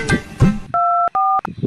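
A telephone keypad dialing: a short burst of spoken voices, then three loud, clean dual-pitch DTMF tones. The first two are long and steady, the last is brief, with sharp clicks between them.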